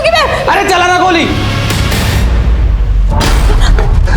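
Gunshot in a Hindi TV crime drama, a loud booming bang that cuts in after tense, rising voices and leaves a low rumbling tail.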